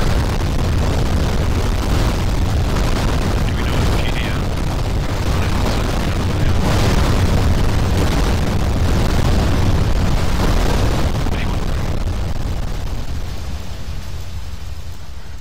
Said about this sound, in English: The heli crashed.